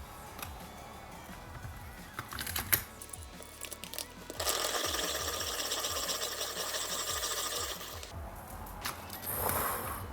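A pencil being sharpened in a sharpener from an art supply kit: light handling clicks, then a steady grinding whir for several seconds that stops abruptly, close and moderately loud.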